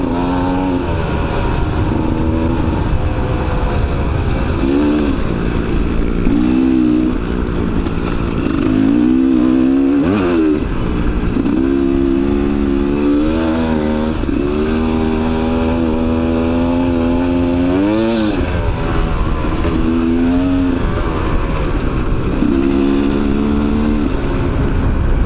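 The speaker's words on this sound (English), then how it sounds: "The little WRs have got enough power and are light enough to cope with this sand riding." Light Yamaha WR enduro motorcycles ride through deep sand in Australia's Little Desert. A loud, close engine drones continuously, its revs repeatedly rising and falling as the rider works through the sand.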